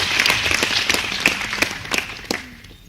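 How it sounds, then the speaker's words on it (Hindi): Crowd at a live event clapping loudly in a brisk, uneven burst that tapers off after about two and a half seconds, with a brief voice at the end. "स्वागत है, एक बार तालियों से फिर माहौल बनाते हैं।"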